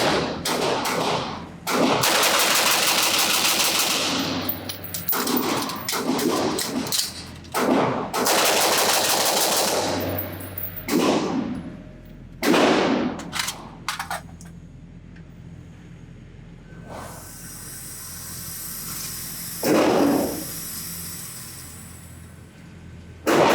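K&M Arms M17S bullpup rifle firing at an outdoor range, loud sharp gunshots in quick strings and single reports, each with a short echoing tail, then quieter handling sounds near the end.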